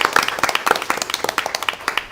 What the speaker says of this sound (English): Would you please thank her by a round of applause for what she's done?